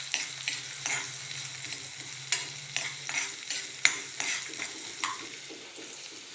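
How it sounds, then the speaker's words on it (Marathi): Chopped onion sautés in a pan while being stirred, a close steady sizzle with repeated scraping and clinking of a spoon against the metal, and no voices. "कांदा आपल्याला लालसर होईपर्यंत परतून घ्यायचा आहे."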